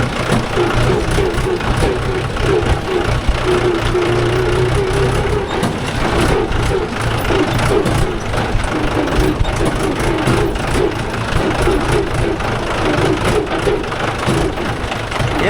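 A Mahindra 575 DI tractor engine runs steadily in farmland while hitched to a five-tine cultivator, a loud, continuous low diesel rumble with a throbbing beat, close up and unbroken.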